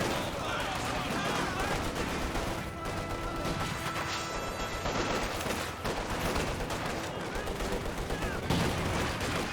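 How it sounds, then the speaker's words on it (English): Dense battlefield gunfire in Company of Heroes 2, with rifle and machine-gun bursts and explosions rolling continuously at moderate level, a rifle grenade among them, over a busy wartime soundscape. "I thought I heard a rifle grenade"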